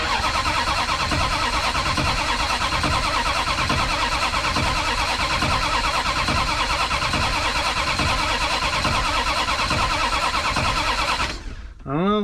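A van engine cranks over steadily on the key, a loud, rhythmic starter churn pulsing evenly for about eleven seconds before stopping abruptly, followed by a brief voice.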